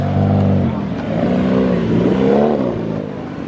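JDM cars rolling out of a car meet, loud engines revving and accelerating nearby, with the rising and falling roar of passing cars blending together over a few seconds.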